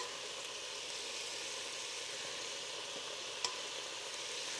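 Chopped onion cooks down in a pan with spoonfuls of rendered beef fat for chili, giving a soft, even sizzle that holds steady throughout, quiet and close, with one faint tap partway through.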